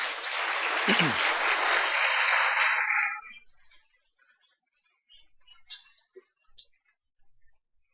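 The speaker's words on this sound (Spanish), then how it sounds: "¿Puede darle un aplauso al Señor?" A church congregation applauds for the Lord in a brief, dense burst of clapping that cuts off after about three seconds, leaving near silence with a few faint clicks and ticks.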